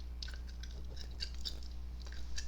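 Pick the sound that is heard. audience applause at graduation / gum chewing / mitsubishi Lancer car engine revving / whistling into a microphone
gum chewing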